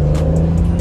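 An Acura NSX engine revs loudly up close, a dense continuous growl with no pauses across the brief moment.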